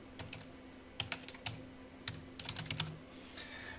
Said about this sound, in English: I'll just type this one in.